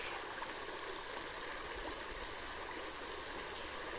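A mountain stream rushes steadily down a creek bed where gold is being panned, a loud, even broadband wash of water with no pauses.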